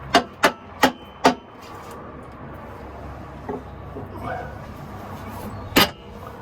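A hammer strikes a V8 engine being fitted into a Marcos Mantula's engine bay: four quick, loud metallic knocks in a row, then a pause with faint background noise and one more hard knock near the end.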